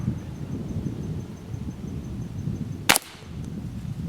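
A single sharp crack from a Beeman Grizzly X2 .22 air rifle shot outdoors, a loud brief report standing out against low wind rumble and quiet background.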